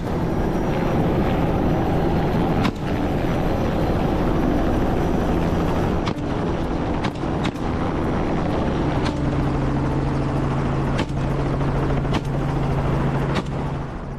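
A hunting helicopter pursuing wild boars gives a continuous loud rotor and engine drone that holds steady throughout, with occasional sharp clicks over it and no voices.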